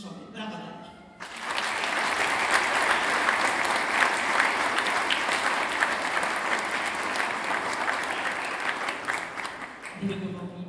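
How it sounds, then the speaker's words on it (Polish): Sustained audience applause at a Polish concert after a performance by young musicians, a dense, steady wash of many hands clapping for roughly nine seconds, starting abruptly after a brief spoken introduction and fading as a voice returns at the end. "Brawa dla nich"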